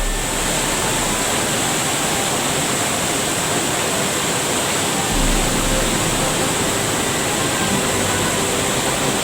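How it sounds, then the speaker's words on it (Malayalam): A small waterfall rushes steadily in misty surroundings, a dense, continuous roar of falling water that stays loud and unbroken throughout, with no voices. "ഇതിന് മേളത്തെ വെള്ളച്ചാട്ടം ഇവിടെ ചെറിയൊരിത് കാണാം."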